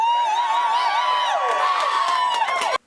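A rowdy crowd of exhausted supporters of Senator Jon Tester cheers and whoops at an election night victory celebration, a loud, sustained wall of voices and shouts that cuts off abruptly at the end.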